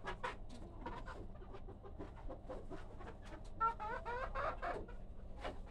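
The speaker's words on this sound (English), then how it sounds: "also like to show you today some of our chickens, silkies" Silkie chickens in a freshly cleaned bearded pen give soft, scattered clucks and murmurs, with a few louder, rising calls near the end over a quiet barn background.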